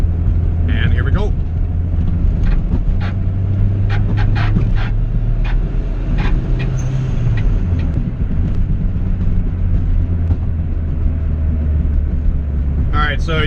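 A turbocharged B18C1-powered Honda Civic EG hatchback pulls at full throttle in 4th gear from around 2,500 rpm, with a loud, steady engine drone and low rumble heard from inside the car, plus a few brief clicks.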